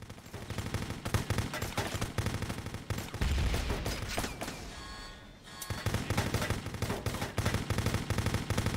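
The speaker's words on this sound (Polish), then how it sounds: "te strzały" Gunfire in the video game Kill.Switch, with dense rapid bursts of automatic shots that sound loud and continuous, break off briefly near the middle, then resume at full intensity.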